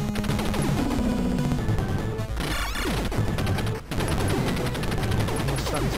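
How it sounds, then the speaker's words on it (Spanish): Gunfire in the 1988 NES game Super Contra, rapid chiptune shots and crashing explosions layered over dense game music, loud and nearly continuous with a brief dip before the barrage resumes. "Vamos a disparar."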